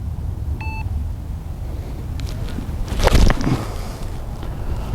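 A short electronic beep sounds once early on against steady outdoor wind rumble, followed later by a louder noisy burst.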